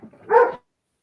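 A single short dog bark or yip sounds in a house, fairly close and clear, then cuts to silence.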